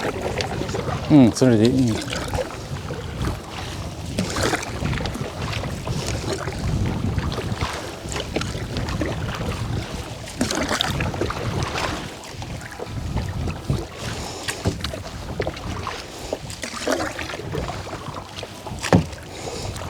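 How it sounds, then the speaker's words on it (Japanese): A Canadian canoe is paddled across open water, with repeated paddle splashes and water swishing against wind noise on the microphone, while people talk throughout. "じゃあちょっと漕いでみましょうか。"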